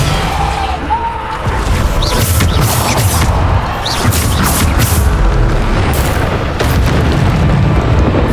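Booming magical blasts from the Depulso spell in the game Hogwarts Legacy, dense repeated impacts and whooshes over a loud continuous battle din with background music.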